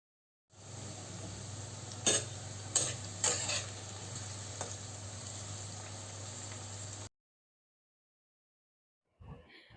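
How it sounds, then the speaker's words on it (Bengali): Okra (ladies finger) frying in hot oil for a yogurt bhindi dish, a steady close sizzle with a few sharp scraping stirs, stopping abruptly before a brief faint knock at the end. "তেল গরম করে তাতে ঢ্যাঁড়সগুলোকে ভালো করে ভেজে তুলে নিতে হবে"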